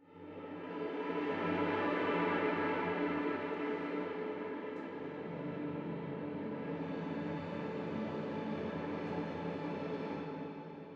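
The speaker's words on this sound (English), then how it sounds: "no rosin on the bow gives you a really kind of ethereal, very airy sound" Virtual orchestra strings bowed without rosin, a sustained, airy and breathy ensemble tone with only a ghostly sense of pitch, swelling in softly and holding steady before fading.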